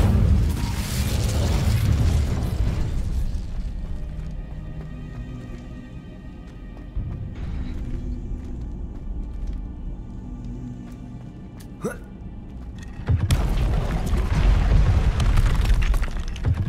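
Incendio fire spell cast in Hogwarts Legacy, a loud burst that opens the clip, then a steady low game rumble with a sharp crackle near the middle and a second heavy blast rising at the end.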